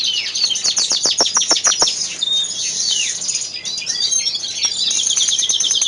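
Greenfinch hen in a show cage, chirping in quick bright bursts with rapid repeated calls, close and fairly loud throughout, no voices.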